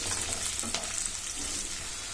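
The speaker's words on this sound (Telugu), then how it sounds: "ఇప్పుడు మనం ఆనియన్ కొద్దిగా కలర్ మారే వరకు కలుపుకోవాలి." Sliced onions with turmeric sizzle in a pan while being stirred, producing a steady close frying crackle with a few scraping stirs, no voices.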